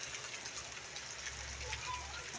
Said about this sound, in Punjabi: ਮੀਂਹ ਦੇ ਨਾਲ ਨਾਲ ਹਵਾ ਵੀ ਚੱਲ ਰਹੀ